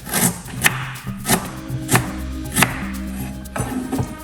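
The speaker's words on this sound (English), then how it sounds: "going to get some ginger, cut up" A knife chopping fresh ginger on a cutting board, with about seven sharp, evenly spaced thuds, close and clear with no talking.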